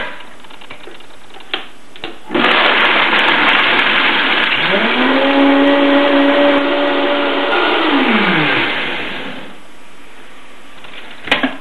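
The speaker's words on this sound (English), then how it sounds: "Blend it till it's nice and smooth." A Vitamix blender whirs loudly and steadily as it purées walnuts with water, its motor pitch rising and then sliding back down before it cuts off.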